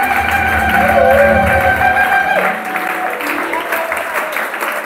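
A church congregation cheers and applauds loudly for about two seconds over sustained organ-like music, then the clapping thins and fades to a softer scattered patter as the music drops away.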